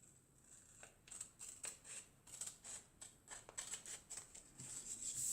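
Scissors snip through a paper corset pattern in a quick, uneven run of crisp close cuts, with no talk over them.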